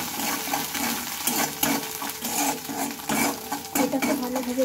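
Spices such as chili and turmeric are stirred into a food mixture, giving close, continuous scraping and mixing sounds with rhythmic swishes of a utensil against a pan.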